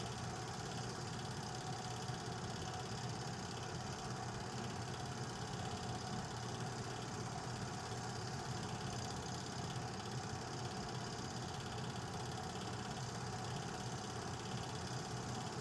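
Nickel Plate 765 steam locomotive idling near the head end, a continuous steady rumbling drone with even mechanical throb and no voices.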